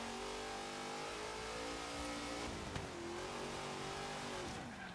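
1972 Hoonigan Chevrolet Napalm Nova muscle car in an autocross racing video game, its engine revving hard and steadily with a near, continuous roar that rises and dips in pitch as it accelerates, with no talk.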